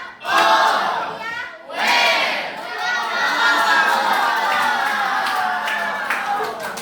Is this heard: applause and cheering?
yes